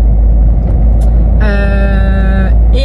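A car passing close by in town with a loud, steady road rumble, joined midway by a second vehicle's tonal whine or horn-like drone that holds for about a second before fading.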